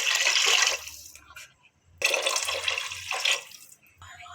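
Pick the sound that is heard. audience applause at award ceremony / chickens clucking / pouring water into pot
pouring water into pot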